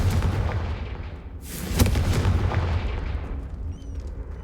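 A Confringo fire spell in Hogwarts Legacy goes off as a sharp, loud blast with a booming, crackling tail, heard alone over a low game ambience.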